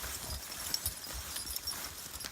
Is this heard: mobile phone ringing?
no